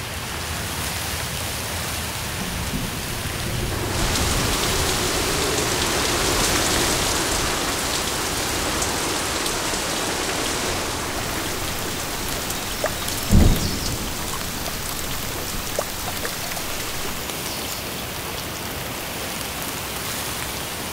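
Steady heavy rain pours over the low, swampy Dutch delta landscape, with a sharp crack and rumble of thunder breaking through the constant downpour partway through.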